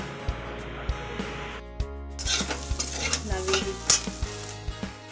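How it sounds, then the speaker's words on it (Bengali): Potatoes and soybean chunks frying for chow sizzle in a pan while a spatula scrapes and knocks against the metal in a loose, repeated rhythm, close and moderately loud. "এখন চাউটা আলুটা ভেজে দিচ্ছি সয়াবিনটা ভাজা হয়ে গেছে"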